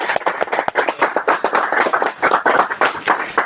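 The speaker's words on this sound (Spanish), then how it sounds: "Así que aplausos" An audience applauds at the end of a talk on the chemical stability of mining waste, a loud, close burst of individual hand claps in an uneven, lively rhythm that runs without pause.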